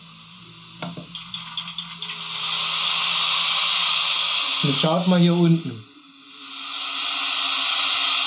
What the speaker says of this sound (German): Jetzt bläst er hier unten den Dampf raus.